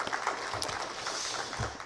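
A congregation at a Korean Sunday church service claps together, a dense, steady burst of applause filling the room, fairly loud and close.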